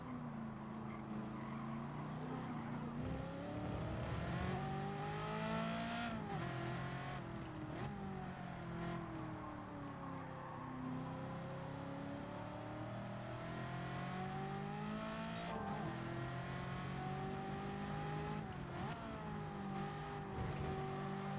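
A racing car in Gran Turismo 7 revs and accelerates continuously, its engine note rising and falling through gear changes with brief tire squeals, steady and unbroken without talk.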